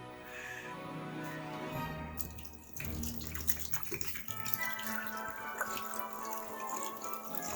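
Lemon lime soda pours from a bottle over a Christmas ham, a steady liquid splashing and trickling that continues for several seconds in a quiet kitchen.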